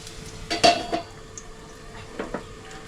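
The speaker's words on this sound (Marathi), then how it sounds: "आता मीडियम गॅस करून आहे ना झाकण ठेवायचा." A metal lid clanks onto a pan on a stove over medium heat, making a couple of close clinks and rattles early on, then quieter light taps, with no talking.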